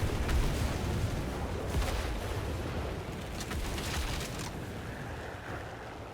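Gunfire from an I-16 fighter plane in a flight combat video game, heard as a dense, continuous roar of rapid shots mixed with engine and wind noise, loud and steady throughout.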